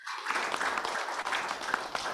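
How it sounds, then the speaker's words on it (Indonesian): Applause at a Partai Demokrat regional congress in Jakarta, a dense steady crowd clapping sustained for about two seconds, moderately loud. "Tepuk tangan untuk Pak Nara."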